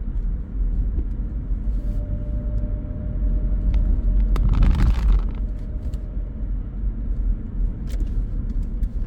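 Car driving along roads in Parsippany, New Jersey, heard from inside as a steady low rumble of engine and road noise, swelling briefly midway with a passing whoosh, no talking.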